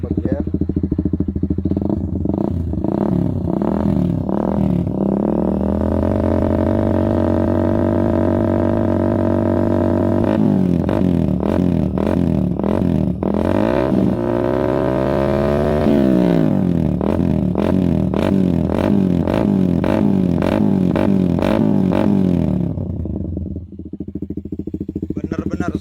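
A Suzuki GSX motorcycle fitted with a CLD Monster X exhaust, run without its dB killer, is revved loudly and repeatedly. The rough, crackling engine note climbs and falls in several long pulls before settling back toward idle.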